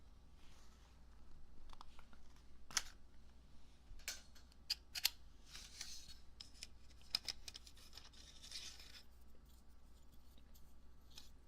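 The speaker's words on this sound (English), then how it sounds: "It's a plastic stapler, not a cold metal one." A plastic stapler clicks and snaps sharply a few times at close range in a quiet room, with soft rubbing and handling noises between the presses and no talking.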